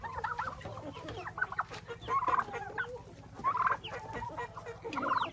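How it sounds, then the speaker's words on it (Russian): Turkeys gobble and cluck in a poultry yard among chickens, with repeated bursts of close, lively calling over a steady low rumble and no talking. "Там вообще у индюков, смотрите, что творится."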